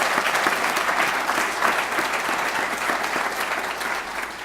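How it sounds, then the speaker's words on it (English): An audience at a city's State of the City event applauds the city manager, a dense, even wash of clapping that holds steady and tapers slightly toward the end. "Let's give Manager Keck a round of applause."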